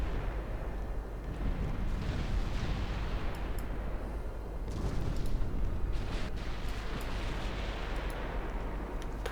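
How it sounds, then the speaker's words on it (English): A torpedo launch during a naval battle in Ultimate Admiral Dreadnoughts gives a continuous heavy rumbling roar with a muffled booming texture that swells midway, loud and unbroken, with no voices. "Torpedo launch."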